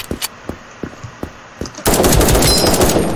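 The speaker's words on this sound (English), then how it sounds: "Let me find someone I want to shoot." Gunfire in the browser shooter Krunker.io: several separate single shots, then a sudden loud, continuous burst of rapid automatic fire that fills the rest of the clip, with no voices.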